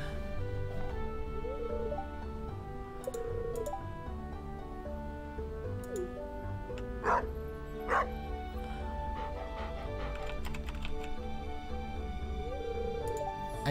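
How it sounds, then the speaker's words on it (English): A stray dog in the Stardew Valley video game gives short repeated cartoonish barks and yips over looping game music, with a few chimes. "Oh, we're gonna get the doggy."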